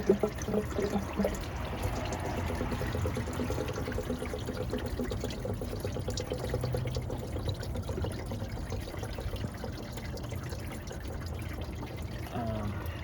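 Coolant pouring and trickling out of the thermostat housing on a 2010 Mercedes C300 during a thermostat replacement, a steady close liquid stream running for several seconds with faint handling noises.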